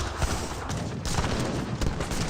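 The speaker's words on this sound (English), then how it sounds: "Heavy cannons trying to hit the various units." Heavy cannons in Age of Empires 3 boom across a dense battlefield, a continuous barrage of overlapping gunfire and blasts at steady loudness with no voices.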